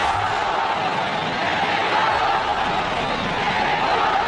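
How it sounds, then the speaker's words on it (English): Near-capacity boxing arena crowd before a WBC super lightweight title fight featuring Julio Cesar Chavez, a dense, steady roar of many voices chanting and shouting together, loud and continuous throughout with no distinct individual speech. "This near capacity crowd chanting Mexico, Mexico as we begin the fight."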